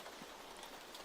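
Faint, even rain hiss sits quietly in the background of an ASMR recording, a steady soft wash with no distinct drops or voices.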